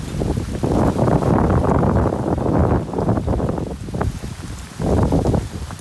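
Heavy rain pours down in a dense, roaring wash that swells and dips, with gusty noise buffeting the microphone.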